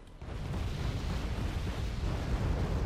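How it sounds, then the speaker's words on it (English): Napalm artillery in Wargame Red Dragon, a dense continuous roar of fiery explosions rumbling low and loud without pause, one blast blending into the next. "just Napalm artillery everywhere for Redfall"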